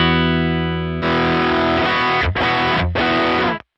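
An electric guitar's overdriven tone through a modeler: a sustained clean note gives way to thick, distorted chords that ring loud and up close, with two brief cuts before the sound stops abruptly.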